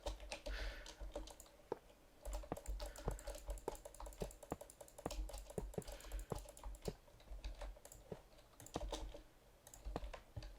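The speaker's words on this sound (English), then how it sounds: "As you can probably hear, I'm clicking my mouse" A computer mouse clicked rapidly and repeatedly during Minecraft play, sharp close clicks in irregular bursts with short pauses between, no talking.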